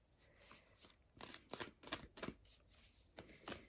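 Tarot cards being shuffled close up, a series of soft riffling bursts and flicks with short pauses between them, fairly quiet.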